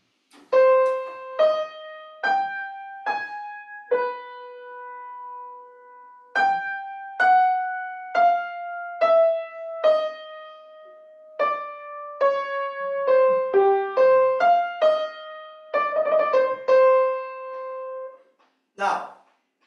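A slow solo melody of clear, sustained notes serves as the theme for a Bach fugue. The phrases are separated by short pauses and played alone, and a brief breath or noise is heard at the end.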